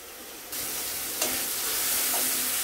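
Sliced potol being fried and stirred with cumin powder in a pan: a dense sizzling hiss that surges louder as the food hits the oil, with a spoon scrape partway through, close up.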